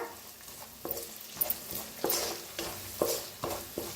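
Ginger garlic paste sizzles quietly in a hot pan while a spoon scrapes and stirs in repeated strokes, roughly every half second.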